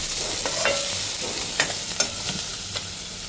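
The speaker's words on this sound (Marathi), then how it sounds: "कांदा गोल्डन ब्राऊन करून घ्यायचा आपल्याला." Onions and chilli frying in a pan toward golden brown, a dense steady sizzle with a few light spatula scrapes and taps, close and fairly loud, no speech.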